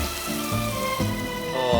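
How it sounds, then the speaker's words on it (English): Mushrooms sizzle in a hot cast iron pan in the video game Genshin Impact, a steady soft hiss running under a rhythmic, pulsing musical background for the whole short moment. "Oh, listen to that sizzling sound."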